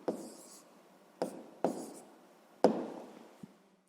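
A pen scratches out a sixth-grade proportion exercise on paper in four short separate bursts, each starting sharply then trailing off, close and quiet, with a faint tap at the end.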